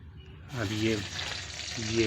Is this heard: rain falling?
no